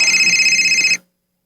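A telephone rings once in a short, steady electronic warble that cuts off abruptly after about a second, followed by silence.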